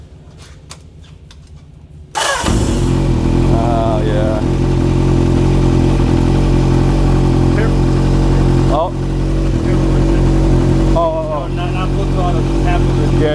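A motorcycle engine with a Vance & Hines aftermarket exhaust roars to life after a quiet start and idles loudly with a deep, throaty rumble, briefly revving, while a person speaks once.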